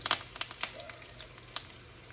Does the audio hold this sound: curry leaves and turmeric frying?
yes